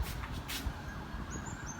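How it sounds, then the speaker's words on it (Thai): Police sirens wail outside a home in Bangkok, faint and distant, their thin rising tone drifting over a steady background hum. "ไม่รู้ข้างนอกเป็นอะไร ไซเรนอะไรตำรวจเต็มเลย"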